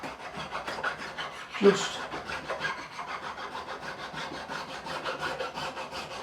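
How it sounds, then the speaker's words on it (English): A Swiss number 4 cut file rasps along the edge of a Warwick Corvette Double Buck bass neck in steady, close strokes, with one brief louder scrape near the start; a voice says a single word. "I'm going to get my file. My Swiss number 4 cut file."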